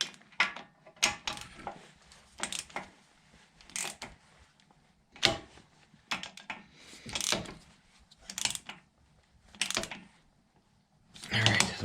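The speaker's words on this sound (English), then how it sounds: "now I'm gonna go ahead and snug them up with my ratchet." A hand ratchet snugs up bolts on a Kubota BX tractor front end, giving repeated clicking bursts in an uneven rhythm, close and fairly quiet, with faint workshop handling noises in between.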